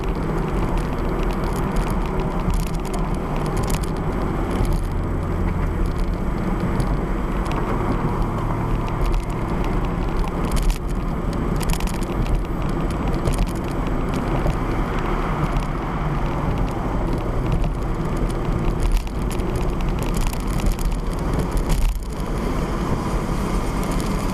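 A 2001 Toyota MR2 Spyder (ZZW30, Mk3) is driven around corners, heard from inside the car as a steady, loud drone of engine, road and wind noise that runs without a break and with no talking.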